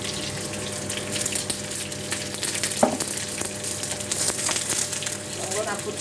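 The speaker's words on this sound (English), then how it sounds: "So I'm frying the onions now." Chunked onions sizzle and fry in oil in a pot for an African beef stew, a continuous loud crackle with occasional stirring clatter and a nearby voice talking over it.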